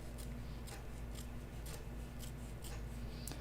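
Scissors trim loose thread off a child's pajama bottoms in steady, close snips, roughly one every half second, over a constant low hum of room noise. No one speaks.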